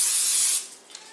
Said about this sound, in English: Okay, now, where's my vegetable spray? I'm going to spray my knuckles